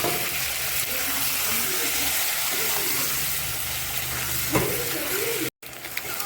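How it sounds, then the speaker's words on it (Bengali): Boiled potatoes fry in hot oil with a steady, dense sizzle and crackle, plus a few stirring scrapes, before a brief cut near the end. "সিদ্ধ করা আলুগুলোকে ভেজে নেবো সাথে"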